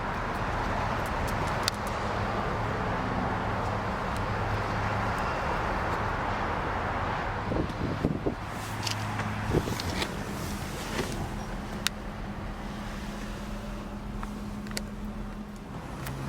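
A 2003 Dodge Viper SRT-10 with a six-speed manual runs at idle, giving a continuous deep, throaty rumble with steady low tones and occasional small clicks and pops over the engine drone.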